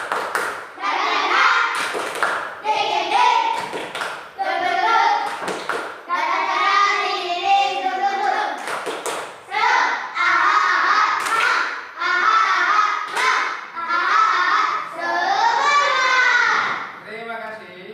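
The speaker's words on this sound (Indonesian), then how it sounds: "kita hari ini akan tepuk semangat dulu." Fifth-grade schoolchildren in an Islamic studies class doing a tepuk semangat spirit clap, chanting together in bursts with sharp rhythmic claps and thumps punctuating the group voices throughout.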